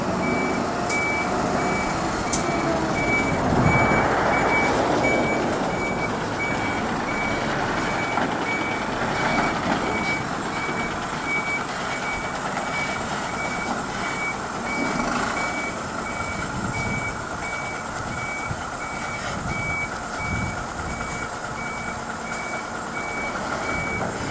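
A tow truck reverses on a road with its alarm beeping steadily in an even, repeating rhythm, heard at moderate distance over engine rumble and street noise throughout.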